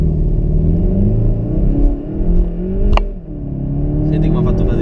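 A Volkswagen Golf GTE hybrid accelerates hard from 0 to 100 km/h on a wet road, a loud steady interior drone and rumble with shifting engine tones and a brief knock partway through.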